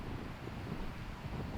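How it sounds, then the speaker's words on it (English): Strong wind buffets the microphone outdoors on a disc golf course, a continuous loud low roar with gusty swells across the short stretch. "It's super windy."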